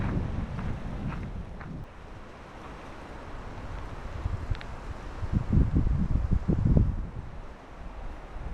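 Wind gusts roar across the microphone and through trees at a lakeside campsite, a steady rushing broken by louder low buffeting bursts.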